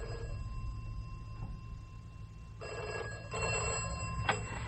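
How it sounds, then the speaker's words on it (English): An old-style telephone bell rings indoors in a radio drama, sounding in two short bursts over a low room hum, with no speech. "I'll just see to the phone, Marty, then I'll be with you."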